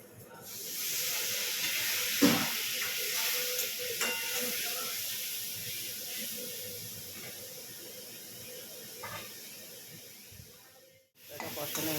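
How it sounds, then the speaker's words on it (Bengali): Spice paste of ground coriander and cumin frying in a pan with a little water, a steady broadband sizzle and hiss with occasional stirring scrapes, close and fairly quiet, with no talking. "সামান্য একটু জল দিয়ে মশলাটা কষিয়ে নেব।"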